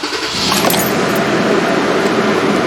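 A 2011 Toyota Tacoma with transmission fault codes P0776 and P2714 idles steadily nearby. A brief metallic jingle sounds at the start, then the engine's continuous hum carries on alone.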